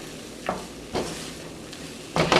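Tempeh sausage gravy is stirred in a pan just after broth is added, a soft steady bubbling under three spaced scraping strokes of the spoon, the last one longer and louder.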